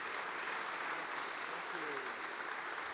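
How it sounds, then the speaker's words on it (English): Conference audience at a DevOps summit applauding steadily, a dense wash of clapping sustained throughout with a faint voice briefly audible underneath. "Big round of applause for Jayne."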